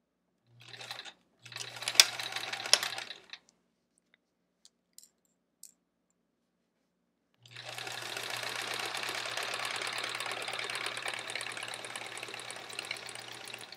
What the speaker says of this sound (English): Let's sew. This is our last seam here.